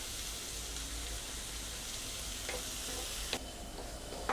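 Onions and curry leaves sautéing slowly over low heat in a pan for a spicy prawn masala, a steady soft sizzle with a few faint utensil scrapes near the end.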